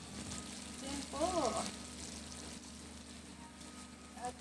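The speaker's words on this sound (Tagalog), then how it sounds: "kumukulo na ang aking niluluto" Food bubbles and sizzles as it boils in a cooking pot for lunch, a steady close simmer heard throughout, with a voice speaking briefly over it.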